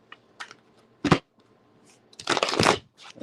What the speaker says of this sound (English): I know I shuffle these cards up